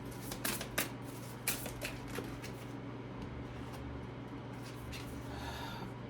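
Tarot cards being shuffled during a reading: quick papery riffles and flicks, most pronounced early on, over a constant low room hum.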